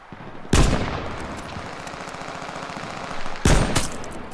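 Two loud, sharp sniper rifle shots in the H1Z1 battle royale game, about three seconds apart, each a sudden broadband crack with a short tail, over steady in-game background noise.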